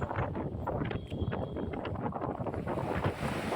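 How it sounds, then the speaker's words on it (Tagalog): Rain falls onto the open sea in a dense, even hiss, wind-buffeted and steady throughout, with no voices. "pagbagsak ng ulan sa karagatan."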